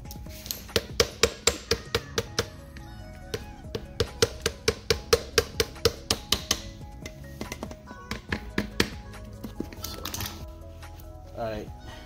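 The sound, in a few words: hammer tapping metal clip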